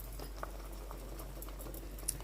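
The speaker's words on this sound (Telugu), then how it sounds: "అదండి వాటర్ అంతా మరిగిపోయింది" Water boils in a cooking pot, a soft, steady bubbling and popping with a low hum underneath, quiet and continuous throughout.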